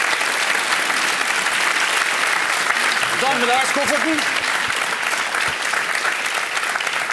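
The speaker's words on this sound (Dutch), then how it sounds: "skal vi gi en skikkelig applaus" Dense, loud audience applause filling a comedy show studio, continuous from start to end, with a brief spoken voice over it midway.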